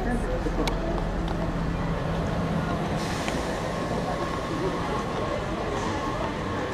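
A WMATA Red Line metro train idles at a station, a steady mechanical hum with a faint hiss and scattered clicks, over general crowd noise.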